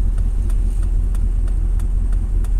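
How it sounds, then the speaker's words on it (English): A 2001 Dodge Ram 2500 pickup with a 5.9 V8, just fitted with a new throttle position sensor, gives a steady, loud low engine rumble heard from inside while driving, with faint regular ticking above it. "Now it's like I barely touch the throttle and it's ready to go."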